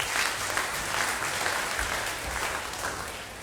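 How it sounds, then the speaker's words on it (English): An Australia Day awards and citizenship ceremony crowd applauds the councillors, producing dense, even clapping that holds steady throughout without speech over it. "Please give them a round of applause."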